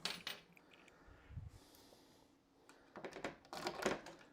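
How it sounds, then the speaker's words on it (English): Metal keys and latch of a Stern Kong pinball machine coin door clinking as it is unlocked and swung open, a few sharp close clatters and rattles with a brief low thump in between. "Coin door is open."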